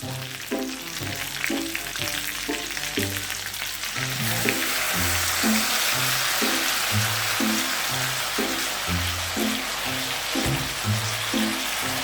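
Pork ribs frying in a pan with soy sauce added, a steady sizzle and crackle running throughout, growing slightly louder and denser partway through, with no talking.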